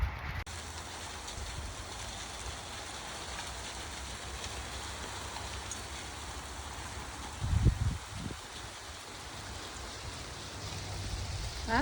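Steady rain falls outdoors beside a large old tree stump, a continuous even hiss of drops on surfaces with no voices, broken briefly by a few low thumps near the middle.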